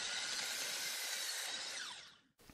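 Power saw cutting a piece of light wood for a shadow box frame, a loud, steady high whine through the cut that fades as the blade spins down, followed by a brief thud.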